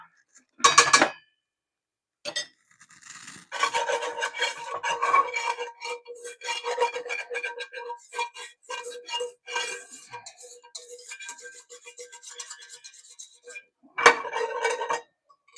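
Ingredients mixed with grease in a pan give intermittent scraping and clinking of a utensil against metal, in short bursts separated by silences.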